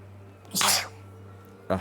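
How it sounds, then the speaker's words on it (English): A single sneeze bursts out, close and fairly loud, followed by a brief breathy sound; a steady low hum runs underneath. "Oh, I need to sneeze."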